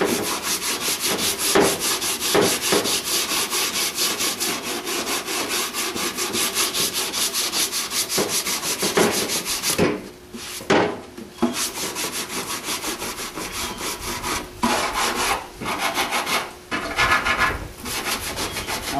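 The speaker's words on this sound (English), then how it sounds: "you're just sanding until you get those marks out, as long as you're not hitting metal again" Plastic body filler on a Fiat Spider panel is hand sanded in rapid rhythmic back-and-forth strokes, a loud close scratching rasp with a few brief pauses.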